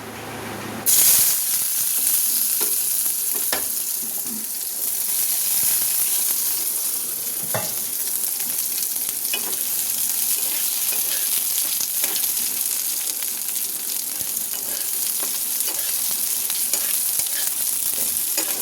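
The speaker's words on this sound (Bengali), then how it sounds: "আমি কড়াইয়ে তেল দিয়ে দিয়েছি, আর এখন দেব কিছু পেঁয়াজ," Chopped onions hit hot oil in a wok and break into a loud, sustained sizzle that hisses on steadily, with occasional stirring scrapes and taps throughout.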